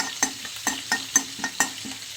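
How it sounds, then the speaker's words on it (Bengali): Cumin seeds fry in a wok (kadai) for a Bengali bottle gourd and snakehead fish curry: a soft, steady sizzle with rhythmic scraping stirs about twice a second, close and alone. "জিরাটা একটু কড়াইতে ভেজে নেয়"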